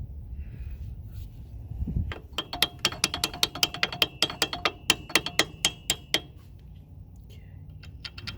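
A wrench ratchets in a steady run of crisp clicks while working on a motorcycle carburettor in a quiet garage, starting after a dull knock and trailing off into a few scattered clicks.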